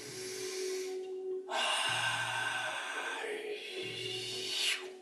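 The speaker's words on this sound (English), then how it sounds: "breathing in for 10 from above, down through the crown, through the nose" A slow, deep breath drawn in through the nose during a guided breathing exercise, a steady airy inhale that rises and holds for several seconds, close and clear, with soft low tones underneath.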